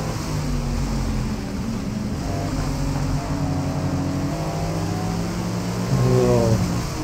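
Engine burble of a car running ahead in the racing game Forza Motorsport, a steady low rumbling drone with gear-change pitch sweeps that rise toward the end, no speech.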